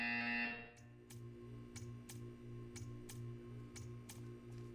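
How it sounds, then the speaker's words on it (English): Buzzer in the video game Portal 2, a tonal electronic blare cutting off after about half a second, followed by a series of sharp regular ticks over a low pulsing hum. "You will hear a buzzer"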